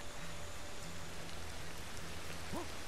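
Rain falls in the video game Ancestors: The Humankind Odyssey, a constant broadband hiss of downpour with a low droning tone underneath and a brief rising call near the end.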